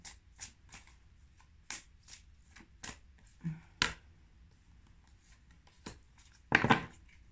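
Oracle cards shuffled and dealt during a reading, giving a series of soft, separate flicks and riffles at close range, capped by one louder riffle burst near the end, with no talk.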